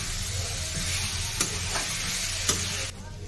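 Chalta (elephant apple) pickle stirred and fried in oil with a spoon, making a steady close sizzle marked by two sharp spoon clicks before the hiss drops quieter at the end.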